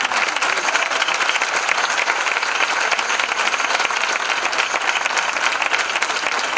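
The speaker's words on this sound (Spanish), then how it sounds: "Así que yo me pido un fortísimo aplauso para él" Loud, dense applause from an audience at a rociero choir performance, sustained evenly throughout with no talking over it.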